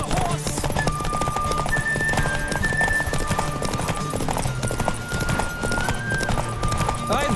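Rapid clip-clop of a horse's hooves galloping in The Witcher 3, steady and close, with a whinny and game music running underneath.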